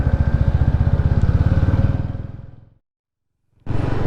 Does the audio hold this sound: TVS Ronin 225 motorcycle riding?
yes